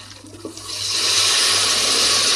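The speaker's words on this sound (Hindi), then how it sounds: "मैं ग्रेवी वाली बना रही हूँ तो मैं थोड़ा सा पानी ऐड करूँगी" A steady rush of water poured into a cooking pot of goat tripe gravy, swelling from a faint trickle to a loud, continuous splash.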